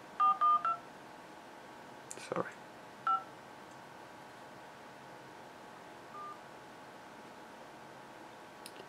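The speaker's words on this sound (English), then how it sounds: "Let me call a number." A Samsung Galaxy S4 running a custom Lollipop ROM plays short dialing tones as keys are tapped, a quick cluster of beeps then scattered single tones against quiet hiss, with a brief spoken word and a tap in between.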